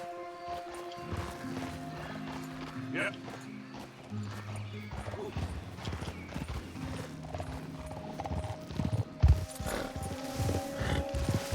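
Horse hooves from the Red Dead Redemption 2 game world thud steadily over a dense game soundtrack, with a whinny and heavier hoof hits rising near the end while a voice talks intermittently.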